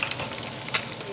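Chicken flautas frying in hot oil give off a soft, steady sizzle with a few brief crackling bursts, faint and continuous, with no voices.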